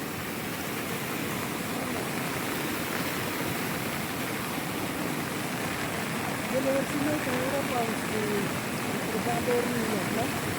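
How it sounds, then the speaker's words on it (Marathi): Floodwater from heavy overnight rain rushes steadily and evenly over field embankments, a constant broad wash of flow, with faint voices coming in partway through. "वावरांच्या बांधावरून कसं पाणी झालंय."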